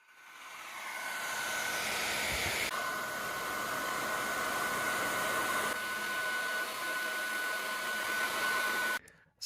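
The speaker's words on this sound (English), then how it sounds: "soften the glue by heating them up with a heat gun, or if you don't have a heat gun, you can use a hair dryer" Heat gun or hair dryer warming glued bolts on a Waydoo eFoil folding propeller: a steady, loud broadband blowing roar with a faint whine, running continuously for about nine seconds before cutting off.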